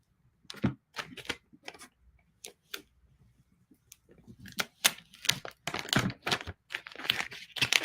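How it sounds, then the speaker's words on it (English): Transfer tape is peeled off a round wood sign in a run of short, crisp crackling and tearing bursts. The bursts are sparse at first, then come thicker and louder toward the end, close by with no talking. "And now I'm just going to peel away my transfer tape."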